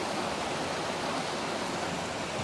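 A waterfall and small trickling water features give a steady, broadband rush of flowing water, close and even, with no voices.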